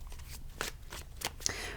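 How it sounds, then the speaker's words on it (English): Tarot cards are shuffled by hand during a card reading, with quick soft riffling and papery slaps in uneven bursts, close and quiet, with no voices. "I will be shuffling the tarot cards while I do that"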